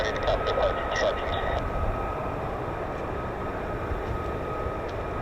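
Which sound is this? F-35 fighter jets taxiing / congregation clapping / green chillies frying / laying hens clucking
F-35 fighter jets taxiing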